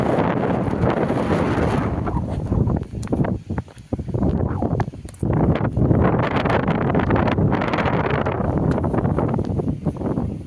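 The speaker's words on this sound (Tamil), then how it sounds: "காற்றுனால சில்லு சில்லு காற்று அடிக்குது" Strong, cold wind buffets the microphone in a steady roar during a motorbike ride in the Shevaroy Hills at Yercaud, with gusty rumbling throughout and brief dips in intensity; no voices.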